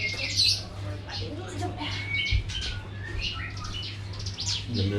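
An oriental magpie-robin (murai batu) calls at a bird-training venue, with bright whistled phrases and chirps among other bird sounds over a steady low hum, fairly close.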